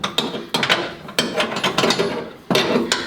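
A wrench ratchets and scrapes against a nut in short bursts while fitting a hand throttle on a Willys Jeep under restoration, close and fairly loud with brief pauses between turns.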